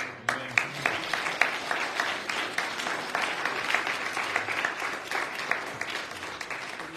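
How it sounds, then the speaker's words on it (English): Applause from a church congregation during a worship service, a dense wash of many hands clapping at moderate distance, steady for several seconds with no talk over it. "I think that deserves a round of applause."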